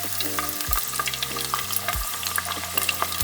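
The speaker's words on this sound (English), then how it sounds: "They're all frying in there beautifully." Crab rangoons frying in a pan of hot oil, a steady close sizzle and crackle with scattered pops and bubbling, no talking.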